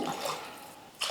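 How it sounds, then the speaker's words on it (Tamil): Water being poured from a tumbler onto rice and lentils in a cooking pot, four tumblers in all; a soft continuous splashing pour, fairly quiet and close, with a brief louder splash at the end. "இந்த பருப்புக்கு சேர்த்து 4 டம்ளர் வந்து தண்ணி சேர்த்துக்கிறேன்"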